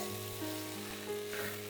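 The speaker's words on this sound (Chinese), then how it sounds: "就可以加入600克的鸡肉，拌炒均匀。" Bone-in chicken pieces stir-fried in a hot wok for turmeric chicken, a brief steady sizzle with faint movement of the pieces, fairly quiet and without speech.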